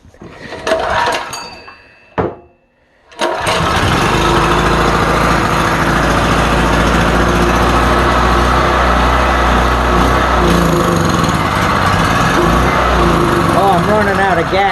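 A cheap import generator gets a couple of pull-start tugs with a brief pause, then its small engine catches and runs on in a steady, close, buzzing drone for the rest of the stretch.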